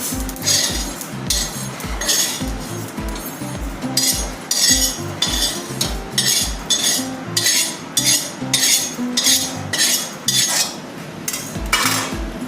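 Roasted sesame seeds are scooped out of a pan with a metal utensil, producing steady, rhythmic metallic scrapes and clinks repeated about every half second, loud and close throughout.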